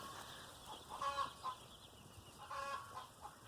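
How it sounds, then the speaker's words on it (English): Faint chickens cluck in the distance, a few soft calls rising over steady outdoor background noise near a garden where seedlings are being transplanted, with no talking. "You can hear those chickens in the background."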